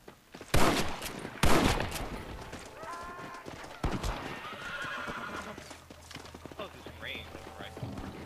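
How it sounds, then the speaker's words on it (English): A horse in the Red Dead Redemption video game neighs and gallops with clip-clopping hooves, mixed with sharp gunshot bursts and game effects at a moderate level. "It's galloping."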